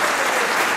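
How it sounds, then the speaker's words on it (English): Audience applause at a Woodstock, Ontario Sports Wall of Fame induction ceremony, a steady, dense wash of clapping from a crowd that holds evenly through the whole brief moment. "Big round of applause for Moe Cosyn being inducted in the builder category"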